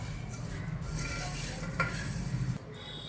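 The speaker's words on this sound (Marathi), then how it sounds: "आता आपण थोडी पिठी साखर टाकून घेऊया ते एकत्र मिक्स करूया" Puffed rice being tossed with powdered sugar in a pan for spicy bhadang, a soft, continuous rustling stir with faint scraping against the pan, ending abruptly near the close.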